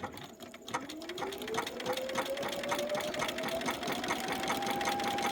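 A sewing machine stitches applique fabric in a fast, steady mechanical whir with rapid needle clatter, its motor pitch climbing as it speeds up, heard close and alone.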